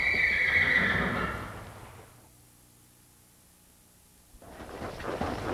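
A Tennessee Walking Horse being worked under saddle gives a loud, shrill whinny at the start that fades into near silence, followed by a rise of broad rushing noise.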